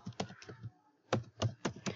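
Someone types on a computer keyboard in a quiet room: quick, close, crisp key taps in two bursts separated by a short pause.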